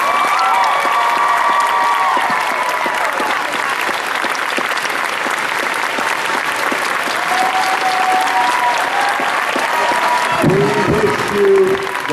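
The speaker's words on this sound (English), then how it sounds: "We ask you all to give them a huge applause" A fan convention crowd gives long, loud applause with cheering, a steady dense roar of clapping that keeps going for many seconds, with a voice near the end.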